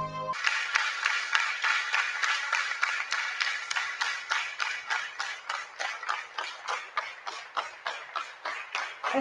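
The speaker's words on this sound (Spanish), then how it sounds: "Este es el aplauso a Rosa María Payá" A recording of an audience applauding after a speech by Rosa María Payá: rhythmic, synchronized clapping in regular pulses, moderately loud and steady throughout, with no talking over it.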